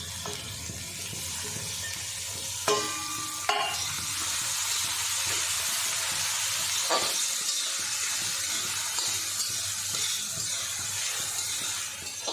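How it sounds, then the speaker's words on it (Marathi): Capsicum for pav bhaji fries in a pan, giving a steady close sizzle and hiss broken by a couple of sharp clanks and scrapes of the spoon as it is stirred, with no talking. "त्यानंतर मी त्यात टाकते शिमला"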